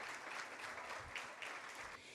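Audience applause for standing committee members at a neighborhood best practices conference, soft and fairly distant, a continuous wash of clapping hands.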